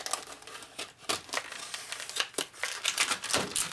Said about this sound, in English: we're going to cut this package open with it